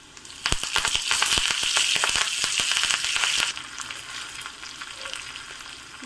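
Curry leaves hit hot oil with green chillies for a rava dhokla tempering, bursting into a loud, crackling sizzle that pops sharply for a few seconds and then settles into a softer, steady hiss.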